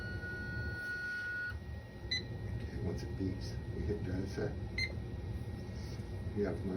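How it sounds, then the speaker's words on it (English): Short electronic beeps ring out a few times from a Santinelli LE-9000SX lens edger, separated by pauses, over a steady mechanical hum and low background noise. "Once it beeps, we hit data set."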